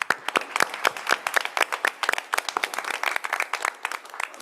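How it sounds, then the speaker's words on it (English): Round of applause from the audience at a city school board meeting: a modest crowd clapping with distinct, uneven individual claps close by, holding steady for several seconds before thinning slightly. "We can give them a round of applause."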